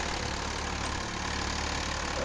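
A modified tractor engine in Farming Simulator 22 idles steadily with a low, even rumble and knocking texture that holds at a constant level and rises slightly at the very end.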